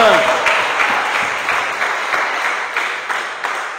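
A church congregation applauds and cheers during a French-language service, steady rhythmic clapping with scattered voices mixed through the loud, continuous ovation.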